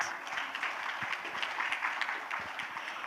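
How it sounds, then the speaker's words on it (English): Audience at a play and early childhood summit applauds a speaker, a steady, fairly soft round of clapping heard from a distance in a large room. "A big round of applause before we start."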